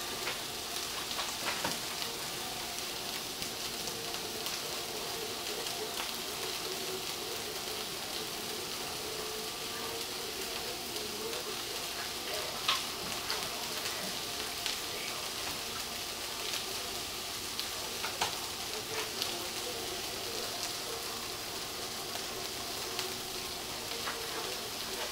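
Mangetout frying in a pan, a steady close sizzle that continues evenly throughout with faint crackles and no talk.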